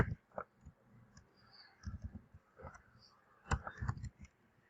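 Typing on a computer keyboard, with irregular soft clicks in short bursts, quiet and close, in a run of about a dozen taps with small pauses between them.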